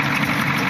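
A diesel engine idles in a short, steady, close-up rumble with an even drone and no breaks.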